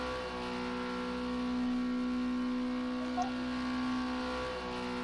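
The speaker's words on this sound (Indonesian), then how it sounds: "Waduh, berisik banget mobil kita" A noisy car engine in a Roblox game gives off a loud, steady droning hum with tonal whine, holding constant without revving, close and unbroken throughout.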